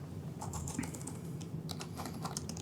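A front-of-house engineer tapping channel labels into a mixing console touchscreen, heard as quiet, irregular light taps in a short run, with no talking.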